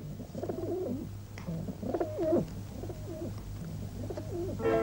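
A pair of pet pigeons coo in a steady series of soft, rolling calls, close by and clear, over a constant low hum.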